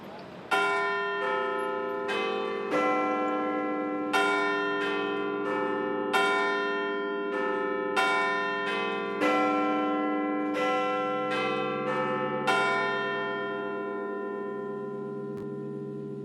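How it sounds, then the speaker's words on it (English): Big Ben, the great clock bell, rings a long, loud series of chime strikes, each resonant tone ringing on and overlapping the next in a steady, unhurried sequence with no voices. "The familiar and comforting chimes of Big Ben"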